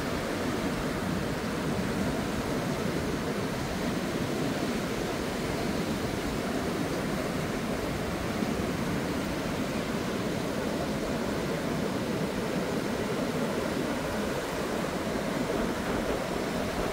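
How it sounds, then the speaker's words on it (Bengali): Huge sea waves roll in on a windy, stormy Andaman beach in the evening, a continuous loud roar of surf and wind with no pauses and no voices. "বিশাল বিশাল ঢেউ, এখানে এখন স্নান করা খুবই রিস্কি।"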